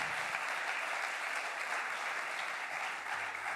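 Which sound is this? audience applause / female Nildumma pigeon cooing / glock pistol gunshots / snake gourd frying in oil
audience applause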